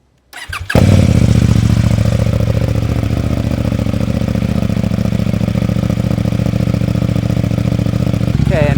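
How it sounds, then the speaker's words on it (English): A 2026 KTM 990 RC R motorcycle with a homemade exhaust delete cold-starts after a brief silence, catching at once and settling into a loud, steady, rough idle that runs to the end. "This is a cold start at this point."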